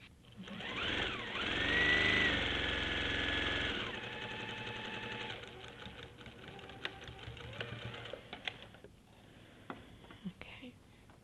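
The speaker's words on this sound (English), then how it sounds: "So I'm just stitching it a 1/4 inch." A sewing machine stitches a quarter-inch seam along fabric side leaders for a longarm quilting frame, with a steady mechanical whir that builds over the first few seconds before dropping to quieter, intermittent rattling and small clicks.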